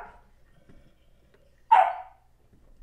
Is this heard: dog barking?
yes